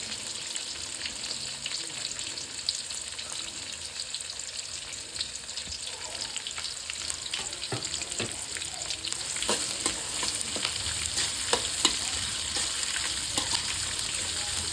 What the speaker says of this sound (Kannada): ಈರುಳ್ಳಿನ ಒಂದು 5 ನಿಮಿಷ ಫ್ರೈ ಮಾಡ್ಕೊಳ್ಳೋಣ.